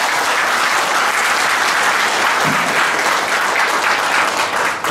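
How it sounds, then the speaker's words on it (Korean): A large audience at a Songpa business forum inauguration ceremony in Seoul gives loud, sustained applause following a congratulatory speech, the dense clapping steady and close throughout with no talking. "좋은 격려 말씀 보여주신 박신욱 수석님께 다시 한번 큰 박수 부탁드립니다."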